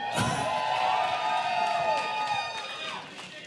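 A crowd at a live wrestling event cheers and whoops loudly, with shrill shouts and voices rising together before easing off toward the end.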